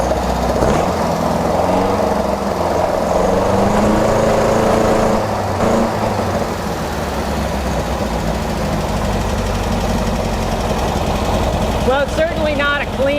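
Engine of a Beck 550 Spyder replica running with a lean carburetor, a continuous close, loud, rough idle with uneven mid-range throb and brief revs, while someone talks over it throughout.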